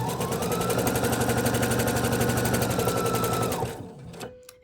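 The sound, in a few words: sewing machine sewing mermaid tail fabric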